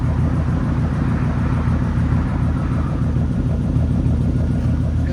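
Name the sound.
2000s pickup truck engine idling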